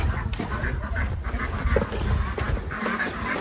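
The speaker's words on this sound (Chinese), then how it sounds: "抓一只鸭子，一只绿头鸭，公的" A male mallard duck quacks several times in short bursts amid a busy farmyard of other fowl calling, with steady low outdoor background noise throughout.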